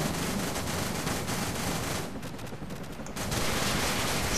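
Dense gunfire in the video game Call of Duty 4: Modern Warfare, rapid overlapping shots and bursts pounding continuously up close, easing slightly for a moment before swelling again.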